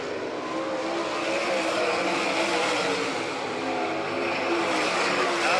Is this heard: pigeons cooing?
no